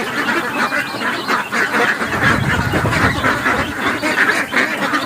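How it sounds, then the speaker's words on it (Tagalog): A flock of ducks and geese being fed pineapple honk and quack loudly and continuously, many overlapping calls close by with no break. "pagpapakain muna natin ng itik itong mga kinuha nating pinya."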